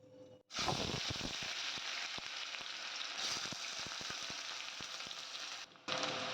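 Chopped onions drop into hot mustard oil, bursting into a loud, steady sizzle with scattered crackles and spoon clicks for several seconds before a brief pause.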